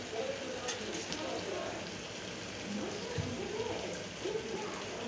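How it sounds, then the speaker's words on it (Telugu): One and a half glasses of water are poured into rice for Hyderabadi bagara rice, a soft, continuous splashing trickle heard faintly and close up, alone. "రైస్ వేసుకున్న తర్వాత వాటర్ వేసుకుంటున్నా."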